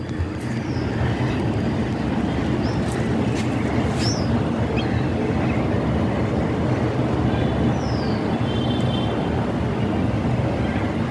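A metro train passes at a distance as a continuous loud low rumble and roar, steady throughout, with a few faint high squeals and bird chirps above it and no talking.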